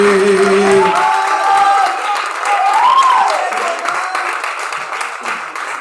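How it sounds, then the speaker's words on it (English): An open mic audience claps and cheers for a performer coming to the microphone, a loud sustained burst of applause that follows a short spoken announcement and gradually thins out. "Can y'all please put your hands together for my man, K-Von? Clap as K-Von comes to the mic."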